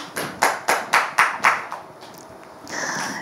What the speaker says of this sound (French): je vais vous aider donc à applaudir pour qu'on puisse on puisse la recevoir